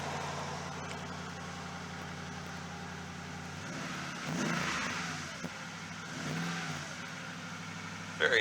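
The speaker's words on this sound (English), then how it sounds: "Sounds like it has an aftermarket exhaust system" A car with an aftermarket exhaust system rumbles at low idle, then revs briefly twice, with moderate, close engine swells over a steady background hum.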